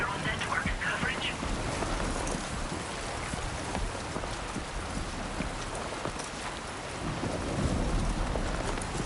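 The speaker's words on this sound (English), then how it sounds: "Thunder" Dense rain pours steadily in Death Stranding 2, with low rolling thunder rumbling beneath it, loud and unbroken throughout.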